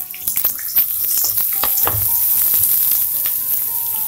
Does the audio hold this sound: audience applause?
no